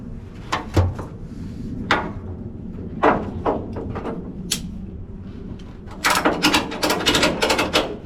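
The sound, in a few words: ratchet strap tightened around 1955 Chevy COE drive shaft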